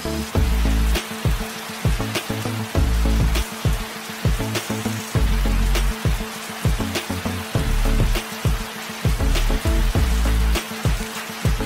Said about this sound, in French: La pluie les a surpris pendant qu'ils travaillaient